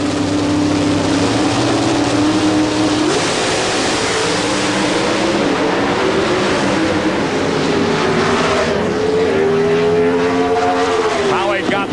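NHRA drag race car in Houston roaring loudly down the strip, a sustained harsh engine blast with rising and falling pitch, with a commentator talking over it.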